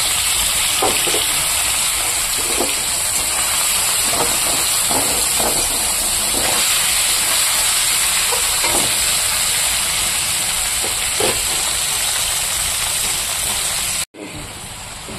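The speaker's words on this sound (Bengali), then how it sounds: "এবার আমি মাছটাকে ভেজে নেব" Fish frying in a kadai of oil with black cumin seeds, a loud continuous sizzle and crackle with soft spatters throughout, cutting off abruptly near the end.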